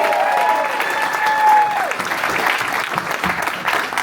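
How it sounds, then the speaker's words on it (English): An audience claps steadily through the whole stretch, a dense, even patter of applause from a lecture crowd at a Sherman Lyceum talk, with a brief tonal whine near the start. "let's give a round of applause for Dr."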